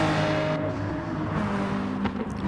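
McLaren GT race car in Gran Turismo, a Gr4 endurance race at St Croix, its engine droning steadily and loudly throughout with a slight rise in pitch near the end.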